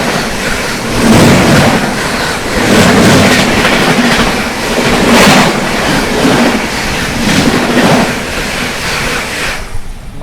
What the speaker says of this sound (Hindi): महानगरी सुपरफास्ट एक्सप्रेस क्या निकली है भाई